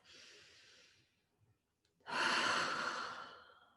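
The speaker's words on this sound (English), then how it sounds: "Okay, deep breath." A deep breath: a soft inhale, a brief pause with faint small noises, then a longer, louder exhale through the mouth, heard close and alone with no talking.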